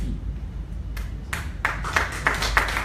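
Scattered handclaps from an audience at a business presentation, a few sharp claps starting hesitantly and building into a brief, light ripple of clapping over a quiet room hum.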